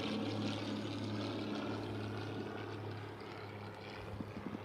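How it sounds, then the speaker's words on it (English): Airplanes flying over outdoors, a distant steady propeller drone with a low hum that fades slightly toward the end, heard alone with no talking. "I could literally sit out here all day, watch the planes fly over, and just breathe in the fresh air."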